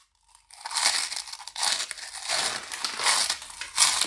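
Giant Flamin' Hot Cheetos crunch loudly right at the mouth, a dense, continuous crackling chew after a short silent start, with several harder bites and no voices.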